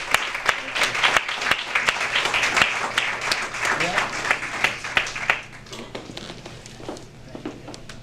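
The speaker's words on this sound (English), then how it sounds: "I want us to give him a round of applause" Applause for a local auto detailing business owner at a Hartford business association gathering: sharp, dense clapping from a crowd, with a voice speaking over it, then thinning to scattered claps near the end.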